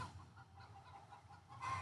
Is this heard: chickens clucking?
yes